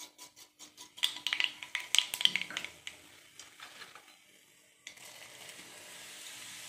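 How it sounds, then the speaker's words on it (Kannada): Mustard seeds hit hot oil for an Avarekalu upma tempering, giving a run of sharp crackling pops over a light sizzle, then a steady softer hiss of frying. "ಆಯಿಲ್ ಬಿಸಿಯಾಗಿದೆ. ನಾನಿವಾಗ ಇದಕ್ಕೆ ಸಾಸಿವೆ,"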